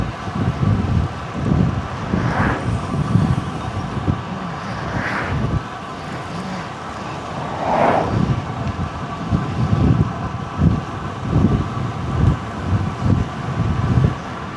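Strong headwind roars and buffets against the microphone during a road cycling ride, a steady low rumble with gusty swells and occasional passing road noise.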